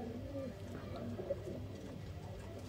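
Pigeons of the 35 walay breed at a seller's loft in Sialkot coo softly, low and muffled against faint background noise.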